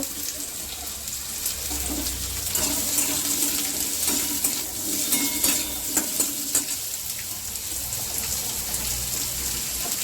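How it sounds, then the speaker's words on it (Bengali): Frying vegetables such as radish, flat beans and carrot in a home kitchen pan for a shrimp, potato and eggplant curry, with a steady broad sizzle, occasional utensil scrapes and stirring, close and fairly loud, no talking. "সব সবজিগুলো আমি ভেজে নেবো এবার এক এক করে দিয়ে সব সবজিগুলো আমি ভেজে নেব"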